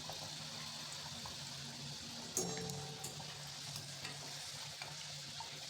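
Shegaon kachori deep-fry in oil over a low flame, giving a faint, even bubbling hiss throughout, broken by one brief clink of a utensil and a few light taps, with no voices.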